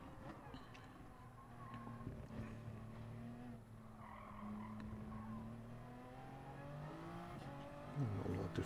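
Race car in the Gran Turismo Sport video game braking heavily: the engine tone slides downward, with tire squeal throughout. It is fairly faint and continuous, with a short rise near the end.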